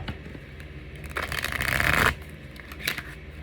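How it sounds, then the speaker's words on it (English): A deck of tarot cards is shuffled in one brisk riffling burst lasting about a second, close and fairly loud against quiet room noise, followed by a light tap. "I thought she wasn't going to shuffle for a second."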